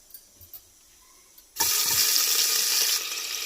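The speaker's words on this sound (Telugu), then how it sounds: "ఇప్పుడు మనం టమోటాలు వేసుకుందాం" Chopped tomatoes drop into hot oil in a pressure cooker for a Karnataka avarekai sambar and start a loud, steady, close sizzle that runs without a break to the end, after a few seconds of quiet kitchen noise.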